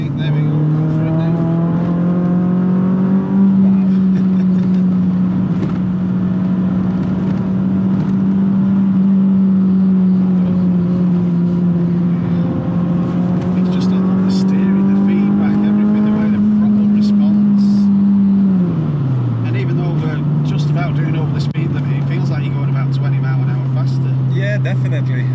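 A Renault Clio Trophy car accelerates hard on the road, its engine note climbing steadily through the revs, holding a strong drone with a brief dip before pulling on again, loud and close throughout.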